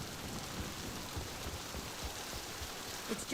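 Steady rainfall in a Mass Effect 2 game scene, a dense even hiss with soft low patters, continuous and close throughout.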